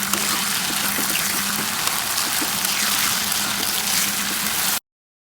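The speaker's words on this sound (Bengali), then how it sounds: "আলুগুলো উল্টে পাল্টে মাঝারি আঁচে ভেজে নেব।" Potatoes fry in a pan over medium heat as they are turned, giving a steady, even hiss for several seconds that then cuts off abruptly to silence.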